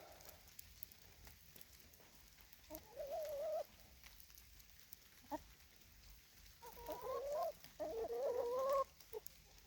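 Chickens cluck and make drawn-out, warbling calls in scattered bursts, with quiet stretches between, fairly close by.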